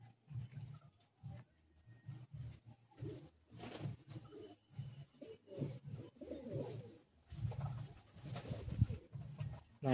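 Pigeons in a loft coo in repeated low, rhythmic bursts, several birds overlapping nearby, with rustling and fluttering in between.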